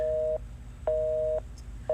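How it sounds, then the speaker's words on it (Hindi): A phone's call-waiting tone pulses in steady evenly spaced beeps, three clear electronic tones of equal pitch separated by short silences, close and alone. "मेरा फोन वेटिंग पे आ रहा है"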